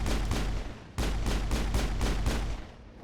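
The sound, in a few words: gunfire in Mass Effect video game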